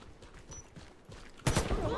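A Warface match: a quiet stretch of soft game ambience, then a sudden loud burst of rapid gunfire near the end.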